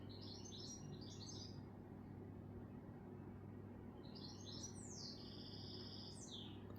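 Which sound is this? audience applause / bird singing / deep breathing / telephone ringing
bird singing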